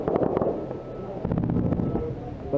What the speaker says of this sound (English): Shooting at 240 right there?